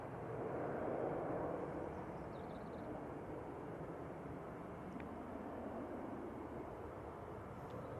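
An Airbus A321ceo airliner takes off at Manchester Airport, a steady, distant broadband jet roar holding level for several seconds, swelling slightly near the start, with no talking.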